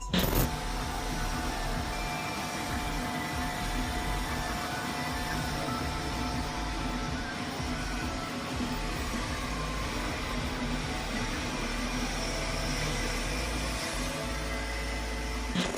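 A Creality K1C 3D printer runs fast, giving a steady, loud whir with a dense mechanical hum throughout and a faint higher tone, constant from start to finish with no talk.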